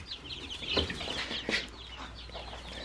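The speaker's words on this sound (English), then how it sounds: "there's Mr. Figaro keeping an eye on his chicks" A rooster and his chicks on a homestead, with soft overlapping clucks and chirps close by and a few louder calls standing out over a faint steady hum.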